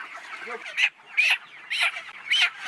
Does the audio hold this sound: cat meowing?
no